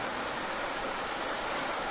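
Steady rain falls in a dense, even hiss that fills the whole short stretch without a break, loud and close with no voices or other sounds over it.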